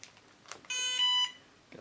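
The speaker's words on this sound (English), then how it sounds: "Got a double beep confirming that something is happening" A Cobra electronic speed controller for an RC plane emits a short double confirmation beep, two clear electronic tones run together, fairly quiet and alone with no talking.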